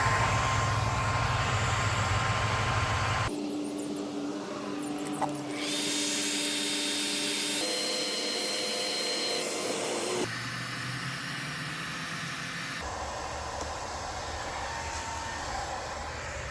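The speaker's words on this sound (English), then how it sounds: "then we'll buff it and just blend it in with the rest of the gel coat" Continuous whirring of a buffer polishing oxidized gel coat on a boat hull, steady and close, with shifts in pitch and tone across several passes.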